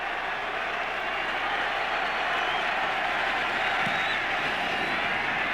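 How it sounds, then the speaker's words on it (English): A roaring crowd at a Seattle football stadium during an NFL wild card playoff game against St. Louis, giving off a steady, dense wall of cheering and noise that holds unbroken the whole time. "And the crowd is really psyched here in Seattle."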